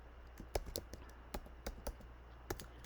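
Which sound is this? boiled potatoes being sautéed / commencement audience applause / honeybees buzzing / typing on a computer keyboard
typing on a computer keyboard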